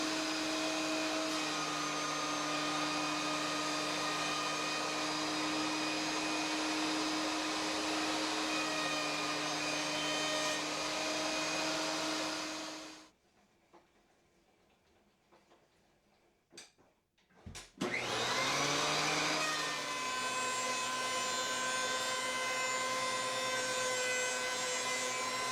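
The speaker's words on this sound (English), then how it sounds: "Here's the famous planer cut" A thickness planer cutting 2x4 boards, a loud steady motor whine with cutting roar, pausing into near silence for a few seconds before the machine spins up again and resumes the pass, close and without talk.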